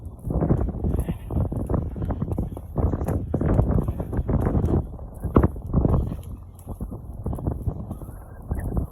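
Strong wind buffets the microphone on a beach at Shah Porir Dwip, producing loud, gusty low rumbles in uneven bursts that stay close and harsh throughout.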